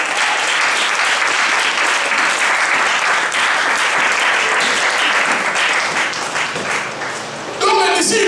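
A church congregation applauding the Lord, loud sustained clapping from a large crowd filling the room for several seconds, with cheering voices mixed in.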